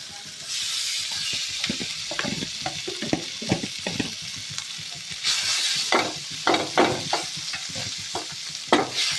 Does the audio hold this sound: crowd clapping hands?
no